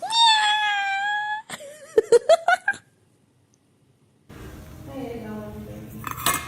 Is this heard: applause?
no